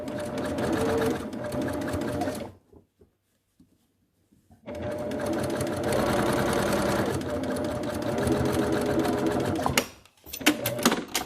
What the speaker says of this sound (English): now I can sew along the top and bottom of my mask